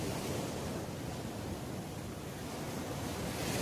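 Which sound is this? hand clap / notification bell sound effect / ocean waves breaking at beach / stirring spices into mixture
ocean waves breaking at beach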